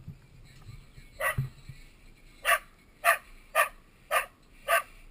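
A dog stranded on a coastal cliff ledge during a coast guard rescue lets out a series of about six sharp, fairly close barks and yips, unevenly spaced, over faint wind and a brief low rumble.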